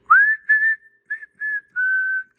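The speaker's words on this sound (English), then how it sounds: "you'll see the meter is moving up when I whistle" Close, clear whistling in several short sustained notes, the first sliding upward, separated by small gaps, whistled into a Central Electronics 100V transmitter to trigger its voice-operated circuit.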